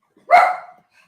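A pet dog gives one short, sharp bark close by in an otherwise quiet indoor room, the single burst fading quickly.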